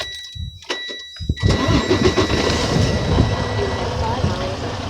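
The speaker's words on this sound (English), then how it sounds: "you start up your truck" A tractor-trailer truck engine cranks briefly and catches, then settles into a steady, loud rumbling idle close by, with a low mechanical drone continuing to the end.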